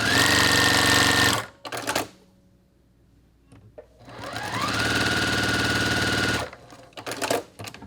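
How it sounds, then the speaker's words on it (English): A domestic sewing machine fitted with an open toe foot stitches along lines on a charity quilt block, running loud and steady in two long bursts with a short pause and brief clatter between. "I'm going to use an open toe foot stitch on the lines."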